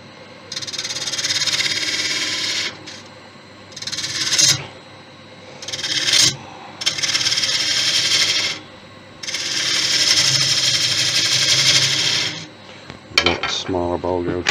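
A woodturning gouge cuts Thai redwood on a lathe spinning at 1,000, making long loud scraping rasps broken by short pauses, with a brief clatter near the end.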